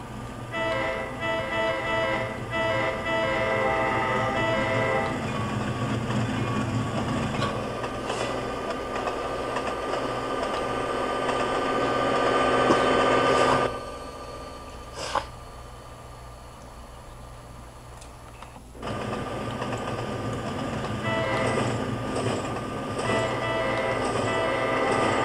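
Amtrak passenger train in the Trainz railroad simulator running along a long street stretch on the CN Holly Sub, a steady loud rumble of wheels and engine with a brief quieter dip midway before resuming.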